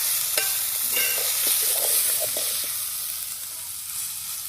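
Broad bean curry is stirred in a pot over a village wood-fire stove after salt goes in. A steady loud sizzling hiss runs throughout, broken by scraping, clinking strokes of the spoon.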